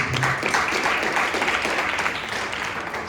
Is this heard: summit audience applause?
yes